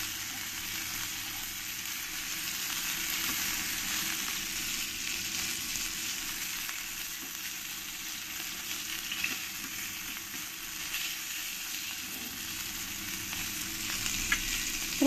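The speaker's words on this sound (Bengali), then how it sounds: "আমি মাছগুলোকে দেখো একটু কড়া কড়া করে ভেজে নিয়েছি, বেশ লাল লাল করে" Pieces of katla fish fry crisp in hot oil, giving a steady, even sizzle with small crackles that continues at moderate level throughout, with no voices.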